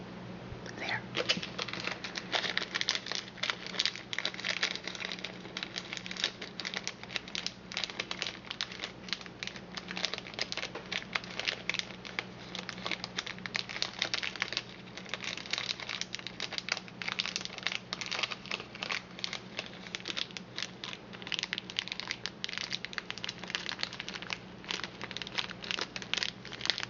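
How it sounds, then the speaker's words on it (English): Crinkly plastic bag from a mosaic trinket box craft kit handled up close, with steady crackling and rustling throughout, soft and continuous. "In a nice crinkly bag."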